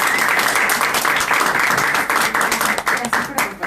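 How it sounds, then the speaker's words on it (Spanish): An audience at a book presentation claps steadily, a dense and continuous wash of applause at close range that fills the whole moment, with a voice calling out over it. "Les pido un gracias a gran ustedes. aplauso, por favor."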